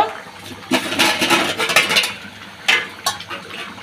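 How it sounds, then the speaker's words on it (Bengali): Hot water splashes into a pan of simmering gora fish curry in a sudden rushing pour, with a second brief splash and light clinks of a pot close by. "এবার একটু পানি দিয়ে দেব।"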